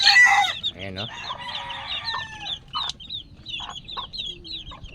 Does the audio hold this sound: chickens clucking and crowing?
yes